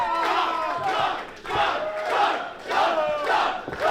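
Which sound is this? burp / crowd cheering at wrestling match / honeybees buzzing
crowd cheering at wrestling match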